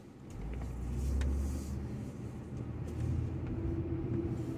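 Low rumble of Los Angeles traffic from inside a car, a steady engine and road drone that swells slightly around the middle and again near the end, with no voices.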